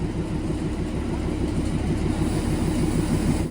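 A Darjeeling Himalayan Railway narrow-gauge passenger train on the New Jalpaiguri–Darjeeling run pulls out of a station, giving a steady, close rumble with rhythmic low clatter and no pauses.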